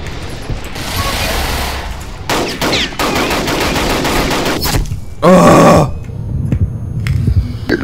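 Sniper and automatic rifle gunfire in a team deathmatch shooter game, loud sustained bursts and rattling volleys with mechanical clicks, close and dense, one especially heavy burst midway.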